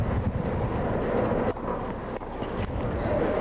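Wind buffeting the microphone at an outdoor US Open tennis court in 1988, a constant low rumbling roar with a few brief dips, loud and steady throughout.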